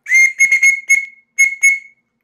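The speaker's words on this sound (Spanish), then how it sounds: "lo voy a mostrar aquí en primer plano, es un silbato" A shrill aluminium whistle is blown in a quick series of short blasts, a pause, then two more bursts, loud and close.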